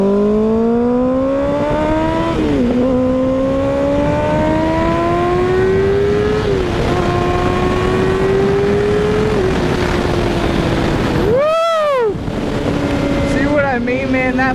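A Kawasaki sport motorcycle, a ZX6R or ZX4RR, accelerates hard through several gears, its engine wailing higher with each quick shift and then swooping past in a sharp pitch drop near the end, loud and close with wind noise throughout.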